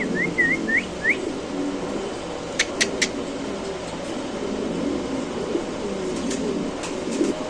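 Fancy Spanish pigeons, an indigo-coloured pair among them, call softly at a Bangladeshi pigeon market, low murmuring coos under brief whistle-like chirps and a few sharp clicks, with steady background hum throughout.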